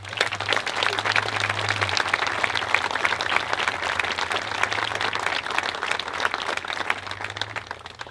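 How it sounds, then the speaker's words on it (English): Dense, sustained applause from a crowd at an outdoor memorial ceremony honoring 9/11 responders, greeting the FDNY ceremonial unit. Many hands clap continuously at an even level over a low steady hum, with no talking. "let's give a round of applause for the FDNY ceremonial unit."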